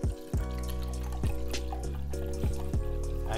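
About 200 ml of water poured into a vessel during a home cooking session, a short splashing pour with ringing, shifting tones that stops and restarts a few times.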